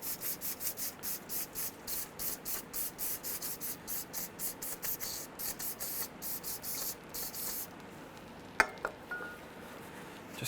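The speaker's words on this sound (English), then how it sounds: "We're going to hit it with some brake clean." Brake cleaner sprayed from an aerosol can onto greasy brake parts of a 2003-2011 Honda Element, a rapid series of short hissing bursts for several seconds, then stopping, followed by a couple of faint metallic taps.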